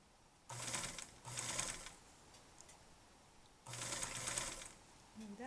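A sewing machine hems a pair of pants in three short bursts of rapid, even stitching, each about a second long, separated by pauses, heard close and fairly quiet.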